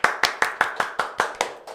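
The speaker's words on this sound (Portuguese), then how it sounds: "Uma salva de palmas para o Mantelicast." Applause for the Mantelicast podcast comes as a small group claps in unison, about nine sharp, evenly spaced claps close to the microphone at a brisk, regular tempo.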